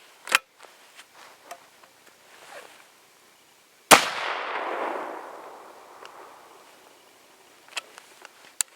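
A single loud shotgun blast from a Federal plastic-hull shell with a C.I.L. primer and a 1-ounce shot load, followed by a long fading echo, with small clicks and handling noises before and after.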